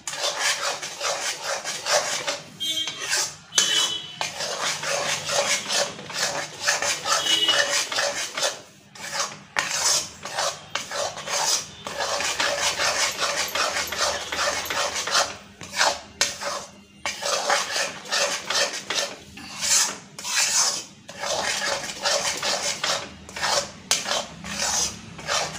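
A spoon scrapes steadily around a pan while mung dal burfi mixture of dal, ghee and sugar is stirred, giving continuous rasping and rubbing strokes with brief pauses, close and loud.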